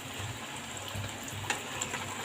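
Breaded KFC-style chicken pieces fry in very hot oil with a steady, close sizzle and soft popping hiss that stays even throughout, with no voices.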